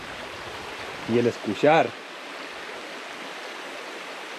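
Water rushes steadily down a stream below a waterfall in Bacerac, Sonora, a constant broadband wash heard near and even throughout, with someone briefly speaking over it partway through.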